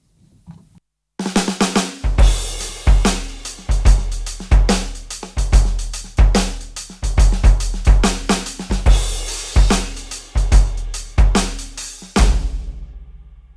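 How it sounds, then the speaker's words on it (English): An ordinary Yamaha DTX6 electronic drum kit played in a steady, punchy groove, each kick, snare and tom hit loud and close with two kinds of delay echoing behind it and gated reverb cutting off its bursts abruptly, alone for about twelve seconds. "I could add two different sorts of delay and a gated reverb onto a nothing particularly special drum kit"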